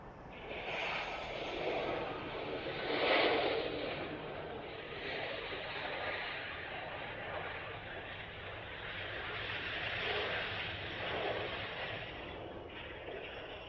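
An airliner takes off from runway 30 at Washington Dulles, a steady, broad jet engine roar that swells and eases slightly over several seconds at moderate distance, with no voices over it.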